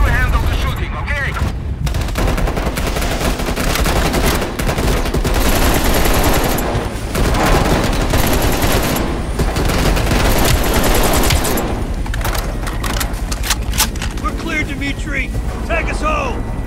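Helicopter-mounted gunfire in the Call of Duty Black Ops mission at Mount Yamantau in the Ural Mountains, loud sustained bursts over rotor and engine roar, with voices talking in between.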